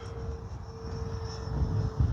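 A Freewing Mirage 2000 V2 radio-controlled jet flies in strong wind, giving a steady high whine from the electric ducted fan over loud, rumbling wind buffeting the microphone.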